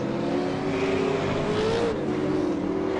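A V8 Supercar lapping Oulton Park, its engine holding a loud, steady drone with small shifts in pitch as it rises and eases through the lap, heard continuously and close.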